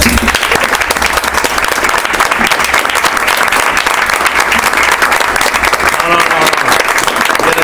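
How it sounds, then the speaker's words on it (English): Loud, sustained applause from a school committee meeting audience honoring a departing member, steady clapping filling the room throughout. "give him a round of applause"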